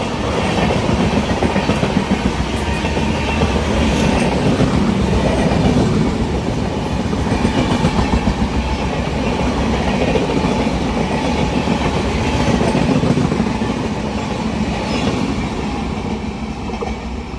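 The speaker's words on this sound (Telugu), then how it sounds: "మన train Duronto express from Secunderabad to Visakhapatnam Duronto express." An Indian Railways Duronto Express from Secunderabad to Visakhapatnam speeds through Charlapalli station. A loud, continuous rumble and rapid clickety-clack of wheels fills the whole stretch, with no voices.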